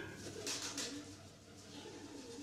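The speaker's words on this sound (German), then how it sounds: "Blöde Tauben. Die müssen ihre Nester oben unterm Dach haben." Pigeons coo softly from nests up under a dark roof in a German radio play, a few low murmuring calls in a quiet, enclosed space with faint voices in the background.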